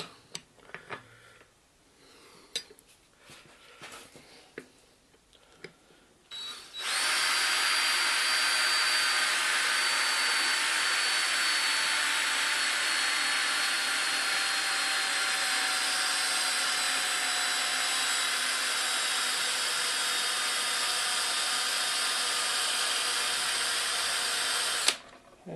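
A cordless drill with a dull bit and a weakening battery bores into a Ford Falcon XF door. A loud, steady, high motor whine runs for nearly twenty seconds after a few seconds of quieter handling noises.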